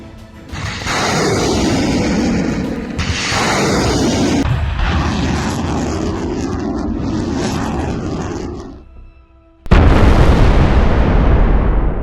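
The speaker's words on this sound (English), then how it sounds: "a guided rocket strike from the 9M542 Tornado S system was launched with high precision, hitting the structure and collapsing the entire position" Guided rocket strike on a building, heard as a long loud roaring rush that fades before a sudden heavy explosive blast with a decaying rumble.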